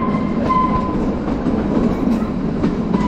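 A Kalka-Shimla toy train runs on the rails during a snowy trip, giving a loud, steady rumble with faint clickety-clack and squeal throughout, and no talking.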